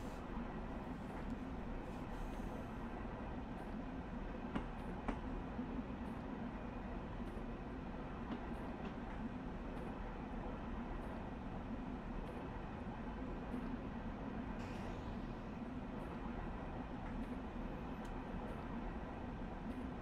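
A Long Island Rail Road M3 electric train cruises slowly at low speed, giving a faint, steady rumble and hum from inside the cab with occasional light clicks and rattles and no voices.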